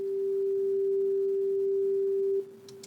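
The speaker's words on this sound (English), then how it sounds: "Right, so that's just a sine wave." A steady, pure electronic sine tone holds at one pitch for over two seconds, then drops abruptly to a much quieter level.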